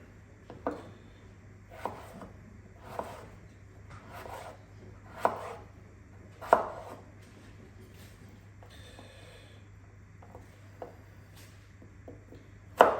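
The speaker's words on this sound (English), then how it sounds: "just cutting up the chips" A knife chops potatoes into chips on a cutting board, each cut landing as a separate knock at a slow, uneven pace, roughly every one to two seconds, close and moderately loud over a steady low hum.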